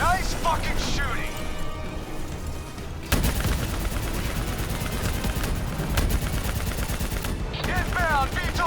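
Sustained automatic gunfire and explosions fill a Call of Duty: Black Ops III combat scene, loud and continuous with sharp bursts. Shouted voices break in over the fire.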